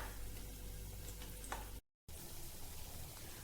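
Potato bajji, batter-dipped aloo fritters, deep frying in hot oil over a medium flame, giving a steady close sizzle and crackle with a brief dropout partway through.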